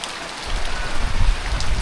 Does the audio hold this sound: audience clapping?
no